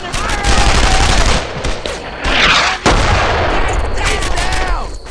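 Dense World War II gunfire in the shooter game Brothers In Arms: Earned in Blood, with loud rapid bursts and heavy booms packed together, close and continuous, with shouted voices briefly mixed in.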